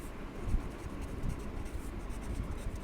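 A pen scratches across paper while writing an accounting cash entry, a soft, continuous scribbling sound with small strokes and taps, close and fairly quiet.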